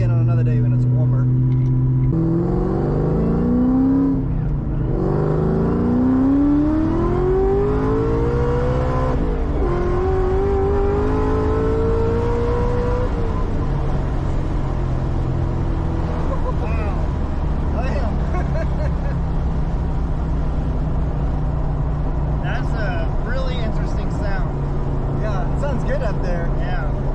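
A 2003 Cobra engine with an aftermarket subframe and ARB revving hard on a test run toward almost 7700 RPM, a loud, close, sustained roar that climbs in pitch through the gears and then holds at a steady drone.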